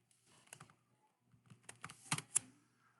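Keys clatter on a computer keyboard in quick, uneven bursts of typing, close and fairly soft in a quiet room, with no voices.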